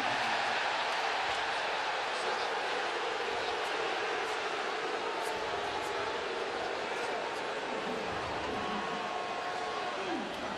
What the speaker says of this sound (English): fans are booing right now because there's a little extracurricular activity